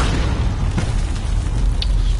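Grenade blast in the Modern Warfare shooter, a deep rumbling boom with a sustained low roar and scattered crackle, loud and without voices.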